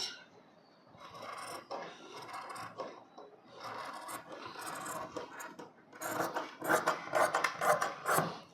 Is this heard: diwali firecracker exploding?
no